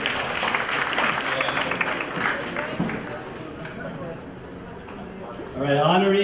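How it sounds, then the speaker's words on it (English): An audience at an award night applauds, dense steady clapping from a full room that gradually thins, then a voice breaks in at the end. "You guys please join me in another round of applause."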